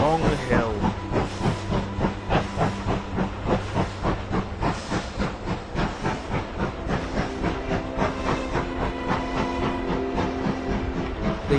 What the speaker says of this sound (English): The 2 engines puffed together as they pulled the train